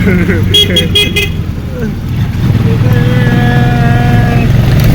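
A motorized tricycle carries riders along a city street in Davao, its small engine droning steadily up close while people talk over it and a few short horn toots sound.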